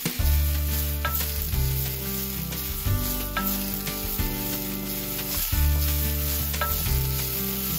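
Garlic sizzles and crackles steadily in hot olive oil during a braai of a rotisserie pork butt, a loud, continuous frying hiss with occasional stirring clatter and no speech.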